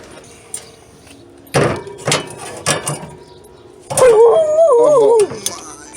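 Dogs outside a house give a few sharp barks, then one dog lets out a long wavering howl, close and loud, with a person's voice briefly heard.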